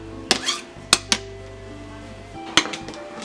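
A few sharp clinks and scrapes of utensils against a bowl while a cucumber detox salad is tossed, four separated knocks over a soft room background.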